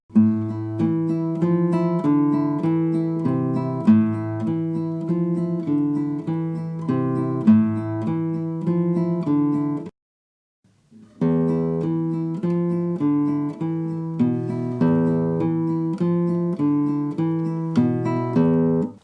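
Solo classical guitar plays a steady line of plucked notes from Asturias (Leyenda) with periodic stronger accents; it pauses for about a second midway, then resumes with the same pattern.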